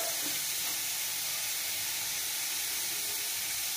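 A pan of curry sizzles softly as the last of its water cooks away and the oil begins to separate: a quiet, steady hiss with faint bubbling and no voices.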